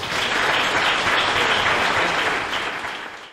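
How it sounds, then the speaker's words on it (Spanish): A crowd at the presentation of the Real Moza del Cachirulo gives warm, dense applause that holds steady, then tapers off toward the end. "Un aplauso para Rocío."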